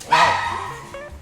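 Jack Russell puppies in a puppy room give a shrill, close yelp that trails into whimpering, with a faint second yip at the end.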